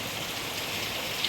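Steady rain falls outside a window, an even, close wash of patter with no breaks and no voices.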